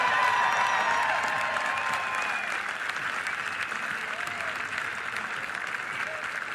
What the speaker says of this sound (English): The standing ovation from the crowd on this Saturday afternoon